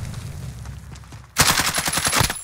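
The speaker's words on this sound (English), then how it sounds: "Someone's shooting me!" Automatic gunfire in Call of Duty: Modern Warfare Warzone, bursting in loud, rapid repeated shots after a quieter opening stretch of low in-game rumble.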